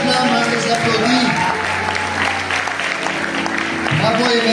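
A church congregation applauds its worship team with clapping and cheering. Talk and voices run over the dense, loud clapping throughout.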